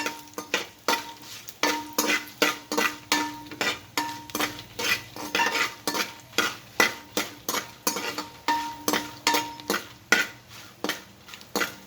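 Red chillies with their seeds stir-fried in a pan for guava pickle, a steady run of metal spatula scrapes and clinks against the pan over a soft sizzle, close and rhythmic without talk.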